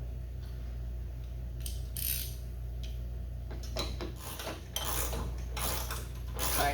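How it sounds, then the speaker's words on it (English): Metal hardware being fitted onto a Cub Cadet RZT L 54-inch mower deck wheel bolt: a nut and large 3/8 washers clink and rattle in a few light, irregular metallic ticks close by over a steady low hum. "And then I'm putting my nut on."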